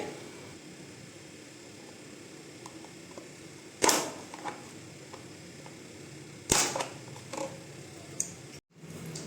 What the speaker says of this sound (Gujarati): આવી રીતના આપણે કન્ટેનરના કાણા કરશું